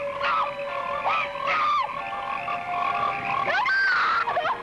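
Frogs croak and trill loudly, repeating in uneven bursts with several calls overlapping, alone without any voices.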